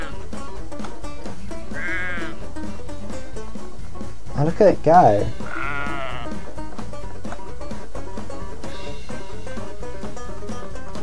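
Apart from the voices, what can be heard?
sheep bleating in a video game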